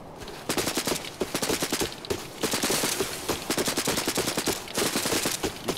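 Rapid automatic gunfire in the shooter game Arena Breakout, close and loud sustained bursts with short pauses between them, no talk.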